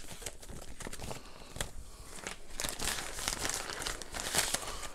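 Double-sided nano adhesive tape being torn and crinkled, a close, steady run of crackling, ripping rustles lasting several seconds with no talking.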